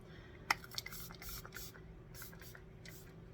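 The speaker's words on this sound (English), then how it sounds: "let me spray my face with this," A face setting spray mist hisses out in a sharp first burst, followed by several softer, brief pumps spread over a few seconds, close to the microphone above a faint steady hum.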